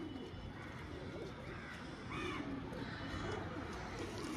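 Pigeons cooing inside a pigeon shop, soft, low warbling calls repeating in the background with a few louder coos midway, mixed with faint room noise.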